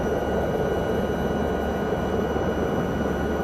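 A Chinook twin-rotor helicopter in Microsoft Flight Simulator gives off a steady, loud, broadband engine and rotor drone with no change in level throughout and no voices.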